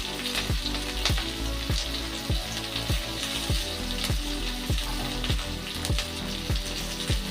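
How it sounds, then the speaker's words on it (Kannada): Corn, cabbage, capsicum and carrot fry in a pan with a steady, dense sizzle, punctuated by a regular series of sharp stirring knocks roughly every half second throughout. "ಇದನ್ನಿಷ್ಟು ಚೆಂದಾಗಿ ಫ್ರೈ ಮಾಡ್ಕೊಳ್ಳೋಣ."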